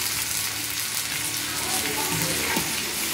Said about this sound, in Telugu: పచ్చిమిర్చి లైట్గా ఫ్రై అయిన తర్వాత